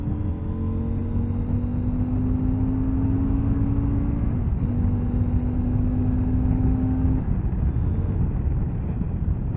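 A 2022 CF Moto 800MT motorcycle carrying two riders accelerates on a main road, its engine note rising steadily through a gear, dipping at a shift, then climbing again under steady wind rush.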